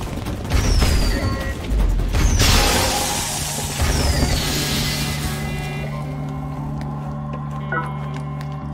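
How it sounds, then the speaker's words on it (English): Fireworks weapon striking an enemy in the video game Let It Die, loud booming explosive bursts and crackling impacts with whistling sparks, fading into a game hum. "I'll just hit it with fireworks."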